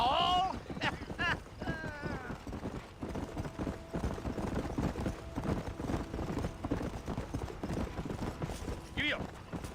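Horse hooves galloping in the Western video game Red Dead Redemption, a steady rapid clip-clop running throughout, with voices talking over the hoofbeats.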